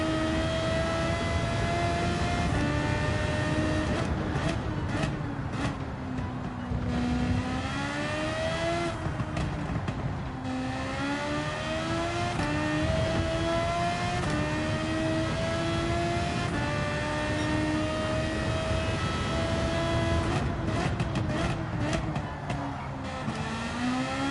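Engine of a car driven in the Gran Turismo 7 video game, revving and shifting in repeated rising sweeps with gear changes, steady and fairly loud throughout with no talking.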